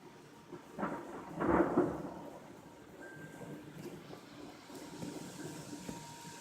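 Thunder rumbles through a thunderstorm with high winds and lightning, a loud low roll peaking early then easing into a steady windy wash with faint rain underneath.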